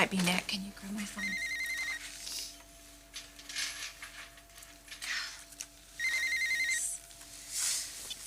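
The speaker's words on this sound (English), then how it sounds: "Bridget, that might be Nick. Can you grab my phone?" A telephone rings in a quiet room with repeated electronic trill bursts at steady intervals, fairly faint, with gaps between rings and soft background sounds.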